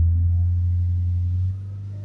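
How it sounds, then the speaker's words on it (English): A Peugeot Expert 2.0 diesel engine held at about 3000 RPM during a particulate filter fault check, a steady low droning hum that drops slightly in level near the end. "So we'll hold the res up to sort of 3000 RPM, back where it was before."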